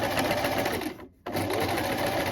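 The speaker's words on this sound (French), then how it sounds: "vous allez coudre à 5 mm du bord en allongeant votre point" A domestic sewing machine topstitches shorts 5 mm from the edge with a lengthened stitch, running in a fast, even whir with a brief pause before it resumes, close up.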